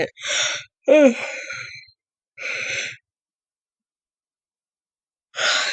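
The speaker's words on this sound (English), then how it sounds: "Can't stop yawning." Several breathy yawns separated by silence, one drawn out with a voiced groan that rises and falls before trailing off.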